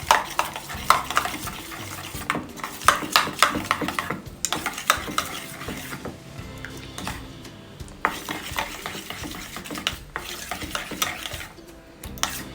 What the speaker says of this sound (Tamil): விஸ்கு இருந்தால் கலக்கலாம்.